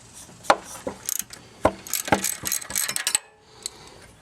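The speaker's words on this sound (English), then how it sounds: "you can use a 13mm socket or a wrench" A 13mm socket on a ratchet works the alternator bracket bolts loose on a 1996 Chevrolet Impala SS during a header install, giving close, uneven bursts of quick ratcheting clicks separated by short pauses and metal taps.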